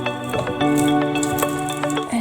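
Caramel-coated popcorn is stirred in a pan, giving a brief run of close scraping and rustling clatter with steady sticky stirring strokes.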